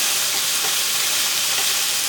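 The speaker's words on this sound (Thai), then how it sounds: "แค่ผัดหมูอย่างเดียวก็หอมแล้วเนี่ย" Pork stir-frying in a pan, a steady, loud sizzle and hiss of hot oil that runs unbroken for the whole stretch with no talk over it.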